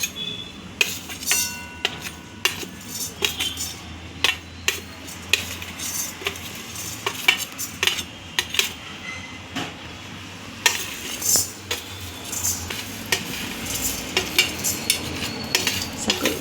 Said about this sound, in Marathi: आता तुम्हाला मसाला दाखवते भाजून